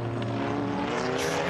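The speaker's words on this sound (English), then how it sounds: "Josh Coggan again very wide across the curbs, that won't do the car too good as he goes towards the Melbourne loop" Racing cars at Donington Park circuit roar loudly past on track, a dense close engine howl with rising revs toward the end.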